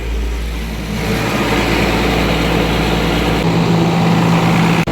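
A heavy diesel tractor engine on a dairy farm, with a troublesome battery, cranks briefly, then catches and settles into a loud, steady rumbling idle.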